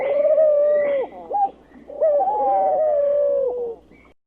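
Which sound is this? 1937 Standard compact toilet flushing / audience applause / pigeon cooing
pigeon cooing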